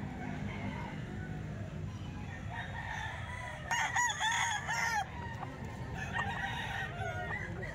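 A rooster crows loudly midway, with others crowing farther off, over continuous clucking from many chickens.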